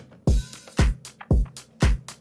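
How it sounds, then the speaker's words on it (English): Disco-style percussion loop for a dance pop track: four punchy kick-and-clap hits at a steady groove, each with bright hi-hat and shaker ticks between them, heard alone with no talking. "Then I added another loop from Splice to give it more that disco feeling in a way."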